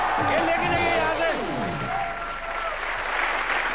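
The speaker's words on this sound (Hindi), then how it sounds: "सनी पाजी के लिए जोरदार तालियां आप बजा ही चुके हैं" A studio audience at a Hindi TV comedy show claps loudly and steadily, with some cheering mixed in. Music plays over the applause, and the clapping fills the room throughout.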